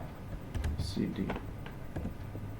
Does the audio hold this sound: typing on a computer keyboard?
yes